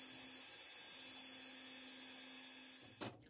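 A 0.8 mm drill bores into jewellery carving wax while cutting a prong seat on a small gem setting, giving a faint, thin, steady high whine before stopping with a brief clatter near the end.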